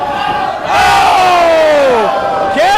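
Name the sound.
wrestling crowd cheering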